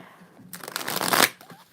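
A deck of tarot cards is shuffled in one quick riffle: a brisk, rising flutter of paper snapping that ends abruptly, close and fairly loud with no speech.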